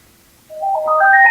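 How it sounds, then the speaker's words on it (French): A phone ringtone goes off partway through, a loud rising melodic chime that climbs in pitch and plays alone with no talk over it. "Oh putain, téléphone."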